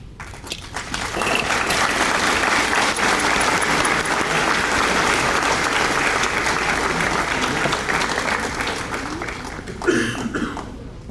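An audience at a high school senior awards ceremony applauds students with a sustained, loud round of clapping that swells and then fades, with a few voices and a cough near the end.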